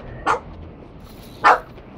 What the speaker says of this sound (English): now you guys get to listen to Mickey bark, because he's right behind me